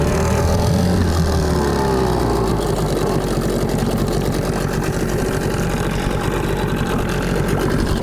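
A Tohatsu two-stroke outboard motor runs on Lukoil oil with a steady, rattly idle, a close, continuous buzz with a fast rhythmic chatter and no talk over it.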